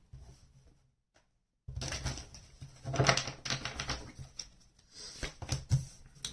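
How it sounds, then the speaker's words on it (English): Tarot cards are shuffled close by, a dense riffling patter with quick crisp flicks after a brief quiet start. "One more shuffle."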